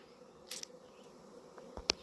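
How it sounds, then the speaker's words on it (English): A honeybee swarm settling into hive boxes on a homestead gives a faint, steady buzz, with a few closer clicks and bumps breaking through near the end. "now the bees are going in the boxes"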